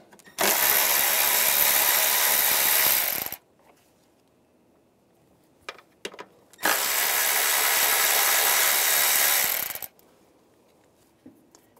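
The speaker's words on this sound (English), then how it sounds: "Using a 10 millimeter socket, take these two nuts off." A power tool on a 10 mm socket whirs in two sustained bursts of about three seconds each, spinning off two nuts on a Ram 1500 with a 3.6L V6, with small metallic clicks between the runs.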